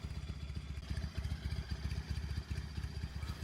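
A Honda CB125 Twin motorcycle engine putters close by, quiet and even, its small twin-cylinder pulses ticking in a quick, regular rhythm with no voices.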